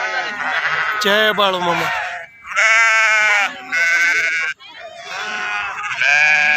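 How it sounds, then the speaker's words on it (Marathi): A flock of sheep being herded out to graze in farm fields, bleating loudly and repeatedly in overlapping calls close by, while a person speaks briefly in between. "मेंढी माऊलीची सेवा करणारे मेंढके बंधू आपापले कळप सोडून शेतात चारायला निघालेत"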